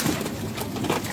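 Pigeons in a loft give a brief, close murmur of low cooing over a dense background rustle, heard alone without speech.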